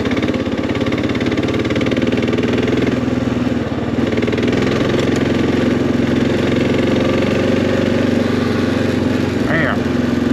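A motorcycle engine idles steadily on a mountain dirt road near Wilkesboro, North Carolina, a loud, close, constant low rumble running unbroken throughout.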